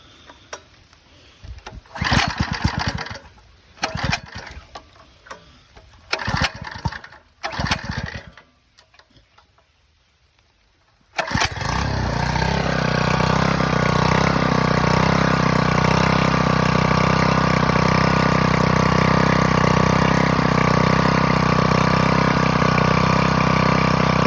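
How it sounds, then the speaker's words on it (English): A small engine-driven water pump at a spring box fires up after a few cranking bursts, then settles into a loud, steady running drone close by. "now we're gonna go ahead and fire up the pump and see if we can fill 110 gallons out of this"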